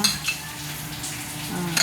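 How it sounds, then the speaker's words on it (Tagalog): Sweet and sour vegetable sauce with cauliflower bubbles and sizzles in a pan, a continuous close hiss and crackle with faint utensil clinks. "Ayan, kumukulo na siya"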